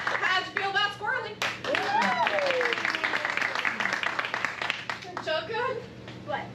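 An improv comedy show audience claps to vote for performers, a live crowd applauding steadily for several seconds with voices and a few shouts mixed in.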